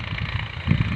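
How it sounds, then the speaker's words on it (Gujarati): Tractor engine running while working a field, a brief steady mid-low rumble heard from a moderate distance, with no talking. "જો આ બાજ ટ્રેક્ટર હેડવાનું ચાલુ છે."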